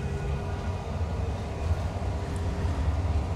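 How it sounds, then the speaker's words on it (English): A train rumbles past a railroad crossing with the gates down, a steady low, continuous roar of rolling cars heard from a waiting school bus, with no talking. "Oh, but train is coming."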